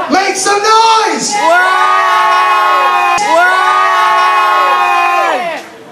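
A loud crowd cheers and whoops in two big swells of high-pitched yells, close by and alone without talk.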